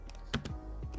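Quick typing on a computer keyboard, a few sharp close key clicks in a short burst, then quiet, with no talk.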